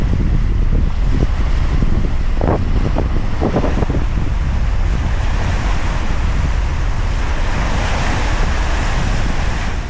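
Strong wind buffets the microphone beside the Hudson River, a loud continuous roar with rushing gusts throughout, and faint lapping water or surf blending into the noise.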